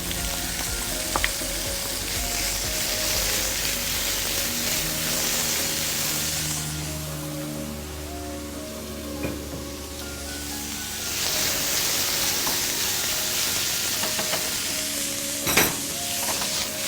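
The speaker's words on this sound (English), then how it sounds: "Then I'm going to add the bacon" Bacon and onions sizzle and crackle in a frying pan while breakfast frittata ingredients cook, a steady, dense frying hiss that swells and eases slightly over time with no talking.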